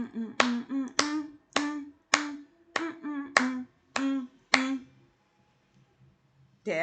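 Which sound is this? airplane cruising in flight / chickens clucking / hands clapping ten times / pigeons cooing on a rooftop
hands clapping ten times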